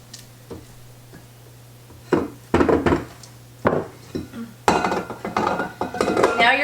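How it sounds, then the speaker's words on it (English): A spatula scrapes around the sides of a mixing bowl of strawberry cake frosting, giving a few short, close scraping and knocking strokes that grow busier and louder toward the end. "Just kind of scrape down the sides again."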